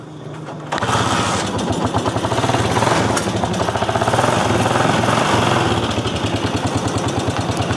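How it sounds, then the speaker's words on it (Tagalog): A motorcycle engine keeps running with its ignition key switched off, a fault the rider is trying to trace. It starts abruptly and settles into a loud, close, steady rhythmic putter that continues throughout. "napaandar yung motor kahit naka-off yung susian"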